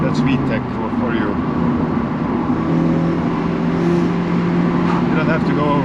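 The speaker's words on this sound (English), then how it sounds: "Now that's VTEC." A Honda Civic Type R FN2 engine climbs steadily under hard acceleration, droning loud from inside the cabin with a rising tone as it pulls into VTEC. Voices talk over the engine.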